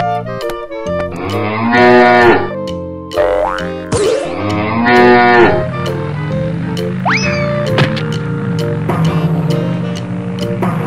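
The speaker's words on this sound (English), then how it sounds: "Cow." A cow moos several times in long, loud, drawn-out calls, with cartoonish boing-like effects and tones mixed in.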